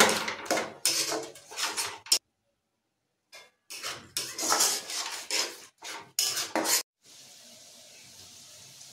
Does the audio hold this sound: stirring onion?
yes